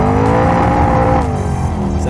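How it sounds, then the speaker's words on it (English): A V8 engine in a 1993 VP Commodore revs loud and close, a steady throaty drone holding high and then easing slightly, with no talk over it. "just hearing this the V8"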